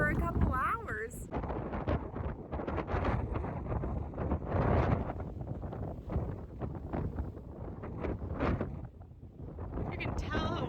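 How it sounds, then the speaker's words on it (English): Strong wind buffets the microphone outdoors on a windy day in Newfoundland, gusting loudly and unevenly while a person talks over it throughout. "You can tell how windy it is just from the ground."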